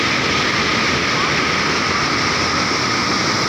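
Rain-swollen floodwater rushes over Kallinmudiville waterfall, heading toward Mettur Dam. The roar is close, loud and unbroken, a steady wash of white noise throughout.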